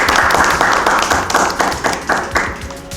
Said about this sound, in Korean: 이상 참석하신 분들께 박수 한번 보내주시겠습니까?